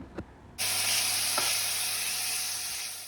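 Onions, tomatoes and three red chillies fry in a pan for egg curry, a loud steady sizzle that bursts in abruptly and holds, with a couple of faint clicks before it starts.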